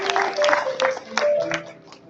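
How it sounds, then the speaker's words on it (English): Audience at a school graduation ceremony in Tokyo clapping for a graduate, a brief burst of scattered hand claps with some crowd noise underneath. "Big round of applause for Junaid."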